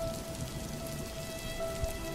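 Rain pattering on a tin roof as an animation sound effect, a soft continuous patter of drops with no other sounds.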